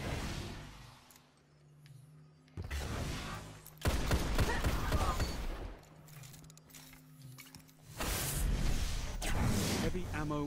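Bursts of gunfire from the Thorn hand cannon in a Destiny player-versus-player fight, sounding under steady game chatter and voice callouts, with louder stretches of shooting toward the middle and end.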